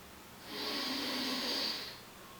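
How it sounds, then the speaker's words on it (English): A single long nasal sniff of Tullamore Dew whiskey from a snifter glass, a close, soft, breathy inhale lasting about a second and a half, with nothing else around it. "That's a fine sniff."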